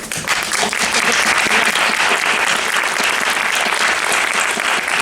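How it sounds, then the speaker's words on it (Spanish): An audience at a festival panel session applauds in a dense, sustained burst of clapping that stays loud and even from start to finish. "Un aplauso."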